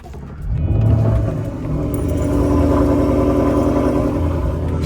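A Ford Mustang engine with an X-pipe exhaust revs up with a deep, throaty rumble, dipping briefly then holding a loud, burbling growl nearby.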